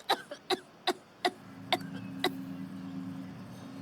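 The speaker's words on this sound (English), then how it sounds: "There's Chinga coughing her lung out by the sounds of it." A video game character coughs six sharp, evenly spaced times in Swords of Legends Online, then a steady low hum continues under the last ones.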